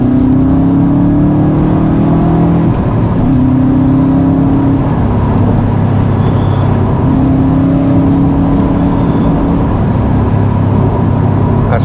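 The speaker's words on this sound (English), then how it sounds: "The sound of that flat 4 engine." A Subaru flat-four engine pulls hard and loud, its tone climbing in repeated rising sweeps as the car accelerates through gears, with brief drops between pulls.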